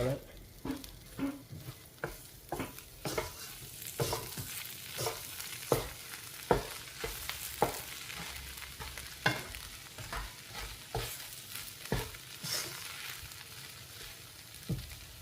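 Rice cooking in a pot is stirred with a utensil, making a steady run of soft scraping strokes over a low, constant sizzle and bubbling.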